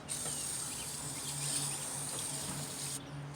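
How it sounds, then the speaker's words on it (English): A faint, steady hiss of an aerosol battery terminal protector spray on a car battery runs for about three seconds, then cuts off abruptly, with a soft low hum underneath. "I'm going to be using a battery spray protector"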